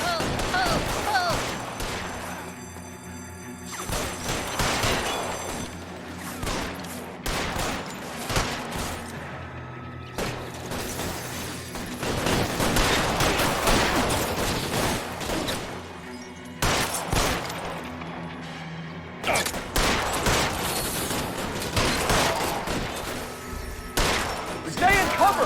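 Gunfire in the video game LA Noire, a long firefight with irregular volleys of close shots and crashes, bursts coming in waves with brief lulls, and voices talking between them.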